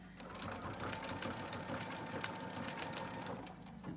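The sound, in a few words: sewing machine top stitching fabric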